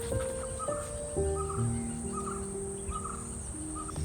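Birds call several times in short bursts over a low engine-like drone and a steady background hum, moderately distant, at a farm cottage in Gokarna.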